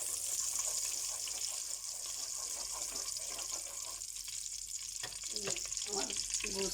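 Beef frying in hot oil with cumin and spices, a continuous soft sizzle with some stirring scrapes and clinks toward the end, fairly quiet and close.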